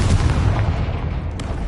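A Confringo fire spell explosion in the video game Hogwarts Legacy, a heavy, rumbling blast that fills the short moment with a loud, close, sustained roar.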